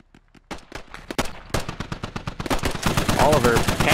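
Rapid gunfire bursts from the video game Squad, a near exchange of automatic rifle shots in repeated, punchy volleys that thicken into continuous overlapping fire, with a voice speaking briefly over the shooting.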